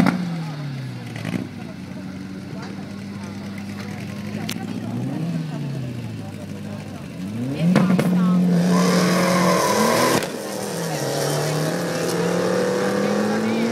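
A flooded 502 ci engine in a 1971 Corvette drag car idles roughly and revs unevenly up close, with loud, sharp surges partway through and people talking nearby.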